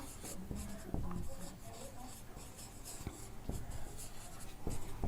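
Marker or pen writing on a board during a geometry lesson on circles, with scratchy strokes and a few sharp taps, close and fairly clear, no talk over it.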